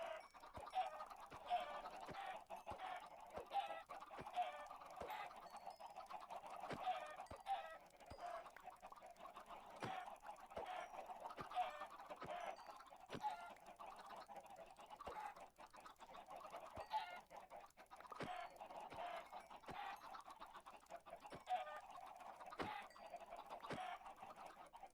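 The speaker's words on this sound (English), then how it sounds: "Stop moving me, dumb chickens." Minecraft chickens cluck softly and repeatedly, small scattered clucks and fowl noises forming a faint, continuous farmyard bed with no voices.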